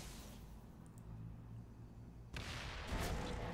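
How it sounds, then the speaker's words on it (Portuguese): A grenade explosion in the video game Chimera Squad, one sudden burst partway through that cuts in over quiet ambience and rumbles on to the end, faint overall. "E a granada pegou ele"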